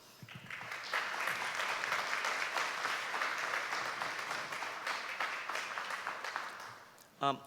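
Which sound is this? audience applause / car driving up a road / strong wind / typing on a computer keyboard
audience applause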